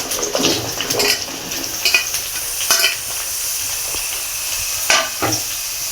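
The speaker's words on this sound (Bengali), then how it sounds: "পেঁপে আলু একসাথে মশলার সাথে কষিয়ে নেব।" Papaya and potatoes stir-fried with a ginger-garlic spice paste in a pan, heard as a close sizzle broken by several sharp scraping stirs of a utensil, no talking.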